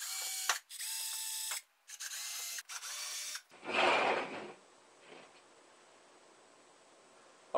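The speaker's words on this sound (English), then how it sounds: "drilled 1/16 inch holes, spaced evenly all the way around, about 8 to 10 per piece of pipe" A drill bores small 1/16 inch holes around a piece of pipe for a DIY evaporative air cooler, sounding in several short bursts of a few seconds each, followed by a brief rougher grinding burst and then near quiet.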